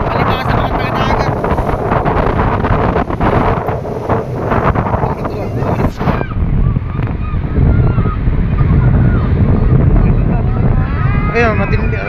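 Big sea waves crash over seaside stairs where a child sits, a loud continuous roar of surf with heavy wind buffeting the microphone, and voices talk and shout over it.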